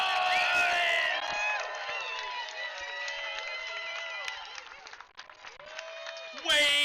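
A crowd applauds, cheers and whoops at the finals of the 2025 Cape Kiwanda Longboard Classic surf contest. The noise is sustained and dense, mixed with voices, dips briefly near the end, then swells in a loud final burst.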